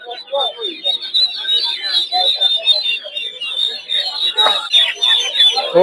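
Guinea fowl at a Narsingdi poultry market give dense, overlapping loud squawks and chattering calls at close range, continuous throughout, with other market poultry mixed in.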